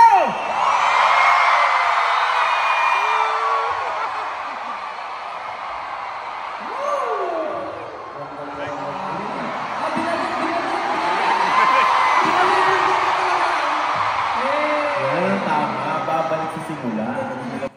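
A large crowd at an anniversary concert shouts and cheers together in a sustained roar, rising and falling with whoops and yells throughout.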